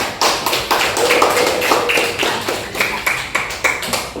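Children clap their hands together in a classroom, a loud, close burst of quick, rhythmic claps keeping a steady beat for several seconds with no talk.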